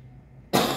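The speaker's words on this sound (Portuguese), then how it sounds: "Desculpa aí, pessoal, tossindo muito hoje, né?" A single harsh, loud cough bursts out close to the microphone after a half-second of quiet background hum, with no talk during it.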